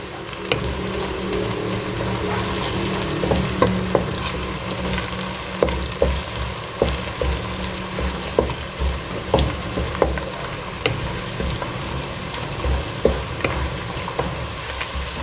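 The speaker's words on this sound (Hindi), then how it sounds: "अब आपने प्याज को हल्का सा ब्राउन करना है। प्याज हमारा तकरीबन ब्राउन हो रहा है" Onions fry in a pan while they brown, giving a steady close sizzle. A spoon stirs and scrapes them now and then, and there is no talking.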